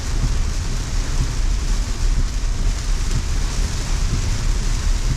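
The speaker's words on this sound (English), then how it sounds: "This is now heavy rain, above moderate." Heavy rain pours down steadily on a moving Tesla car in a dense, unbroken roar, drumming on the roof, with no pauses.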